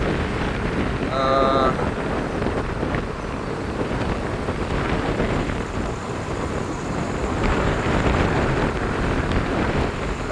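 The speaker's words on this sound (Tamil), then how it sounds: "காற்று வீசி கொண்டிருக்கின்றது பாருங்கோ" Strong cyclone wind roars steadily across the microphone on a road in Jaffna, a dense rushing noise with gusty swells, with no voices heard.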